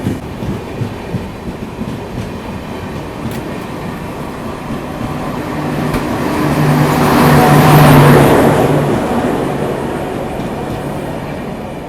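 A Garib Rath express train with LHB coaches runs on the Guwahati–Agartala route, a continuous rumble with clickety-clack wheel beats that swells to a loud peak as it passes close, then eases off.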